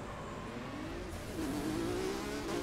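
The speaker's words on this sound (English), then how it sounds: "I hate the sound of this car now." A steady car engine drone in the video game Burnout Paradise Remastered that rises in pitch partway through as it revs, with a constant whirring tone and no voices.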